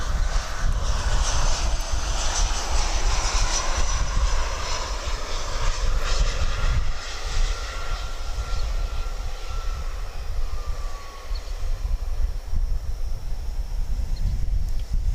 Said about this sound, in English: American Flight 941 from Monterey. It's an Airbus A319.